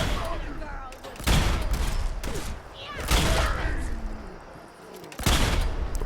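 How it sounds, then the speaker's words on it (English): Gunfire in Fallout 4, loud bursts of shots in three separate volleys with sharp cracks and rumbling tails, broken up by quieter gaps and a faint voice. "You can shoot them point blank in the head with this thing"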